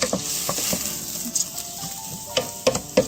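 Basmati rice being stirred in a pot with olive oil, onions and garlic, a soft sizzle under scraping spoon strokes and occasional light taps against the pot, close and without talking.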